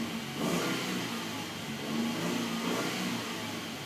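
2012 Ford F-150 pickup with the 3.7L V6 engine revving, a steady loud mid-pitched engine roar that swells and eases slightly, close by with no talk.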